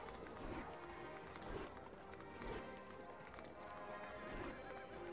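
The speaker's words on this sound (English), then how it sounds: "I just ran straight into a walking horse pulling a carriage" Horse hooves clip-clop steadily as a walking horse pulls a carriage through the town streets in the Shrek 2 video game on PS2, with an occasional whinny, fairly close over a busy background.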